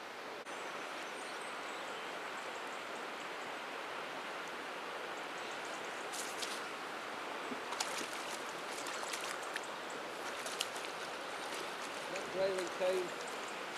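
The River Tees rushes fast over its bed, a constant broadband wash of flowing water, near and steady, with a few faint clicks and brief tonal chirps toward the end.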